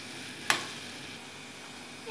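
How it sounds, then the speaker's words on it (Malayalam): Banana pieces frying in a pan until browned, a faint steady sizzle with one sharp stir or scrape near the start, no talking. "ബ്രൗൺ കളർ ആവുന്നവരെ വാട്ടി കൊടുക്കുക"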